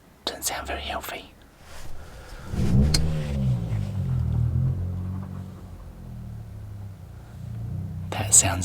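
A small car driven boy-racer style, with a flat tyre and a rough, unhealthy note, rumbles past at night near a car campsite, its low engine drone rising and holding for several seconds, with soft whispering voices before and after.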